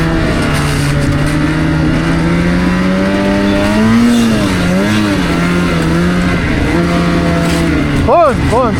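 Ski-Doo 2026 Summit-X Expert snowmobile engine droning loud and steady, pitch climbing and dipping as it revs, with sharp rising bursts near the end and voices talking over it.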